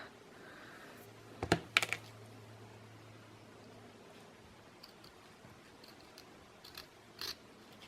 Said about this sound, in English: Not quite the right scissors for this type of trim, but it'll work.